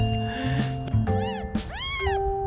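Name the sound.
newborn kittens meowing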